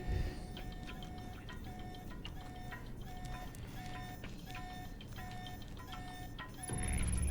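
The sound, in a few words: alarm in Alpha Protocol video game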